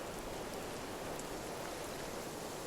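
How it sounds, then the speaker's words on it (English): Steady heavy rain driven by wind in a black-cloud storm sweeping down from mountains over a lake, a dense continuous broadband hiss at even loudness throughout, with no voices. "The rain and wind of the black cloud storm had finally decided to pelt"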